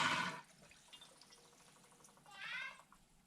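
Water rushing through a newly installed toilet fill valve as the tank refills, a faint hissing flow with a brief louder gush at the start and another surge near the end.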